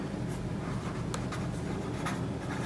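Chalk or marker strokes scratch across a board during a geometry lesson on circle properties, a few short faint scrapes over steady background hum.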